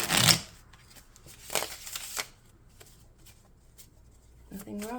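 Tarot cards shuffled in a few quick riffling bursts near the start and middle, with a soft voice speaking gently in the background between them.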